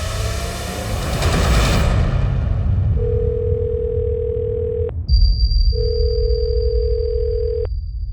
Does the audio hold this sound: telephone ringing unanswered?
yes